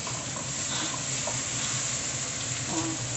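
Chicken pieces fry in hot oil, giving a steady, faint sizzle and crackle that holds even for a few seconds with no talking.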